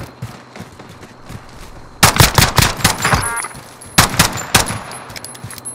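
Rapid bursts of video game gunfire from Call of Duty: Modern Warfare crackle in loud clusters, with quieter scattered shots between the volleys.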